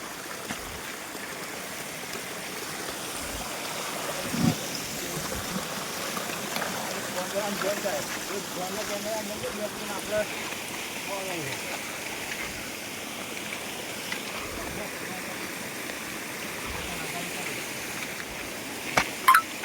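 Stream water at Mahor waterfall flows in a steady, broad rushing wash, moderately loud and continuous, with a few scattered knocks and brief voices over it.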